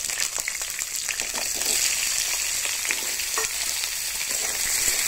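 Potatoes and pumpkin sizzle and crackle steadily in hot oil close by, with occasional scraping from stirring and no voices.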